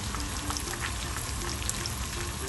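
Steady, close sizzling of sliced garlic and cumin seeds frying in hot oil, a dense crackle with scattered pops and no speech.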